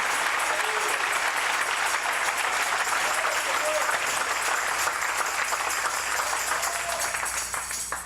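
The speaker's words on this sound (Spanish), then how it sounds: "Dale ese aplauso al Rey en esta linda y preciosa noche" A church congregation applauds through a night service, a dense, steady wash of clapping that stays loud and unbroken from start to finish, tapering only slightly at the very end.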